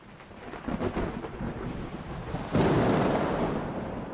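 Thunder rumbles and cracks during a dramatic scene in a TV drama series, building from low rolling rumbles to a loud close crash with rain-like wash, heard alone without talk.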